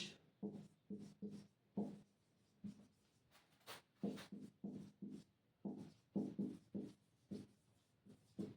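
Pen or pencil writes a sentence by hand, close and quiet, in a series of short scratchy strokes separated by brief pauses.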